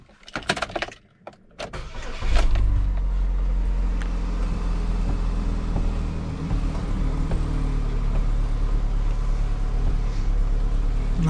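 New power steering pump motor on a Chevy HHR switches on after a few brief clunks, then settles into a steady, close electric hum and whir that runs evenly to the end.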